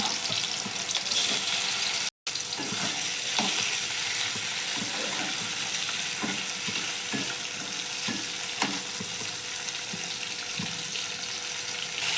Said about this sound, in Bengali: কড়াই গরম হয়ে গেছে, এবার আমি চিংড়ি মাছগুলোকে দিয়ে ভেজে নেব।